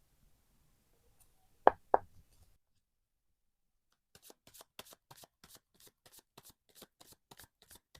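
Tarot cards being shuffled, two sharp taps early on followed by a steady run of quick, light riffling clicks, close and quiet with no talk.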